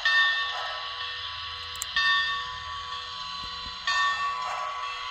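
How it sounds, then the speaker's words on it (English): A bell on a model of steam locomotive 611 rings from an electronic sound unit, with clear repeated metallic dings in a slow steady rhythm, close and fairly loud over a faint low rumble. "Let's take a listen to the bell."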